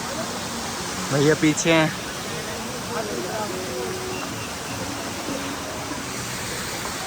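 Steady broadband rush of a mountain waterfall on the Kedarnath trek, continuous and fairly close in cold conditions, with a short burst of speech and a brief whistle-like tone early on over the water.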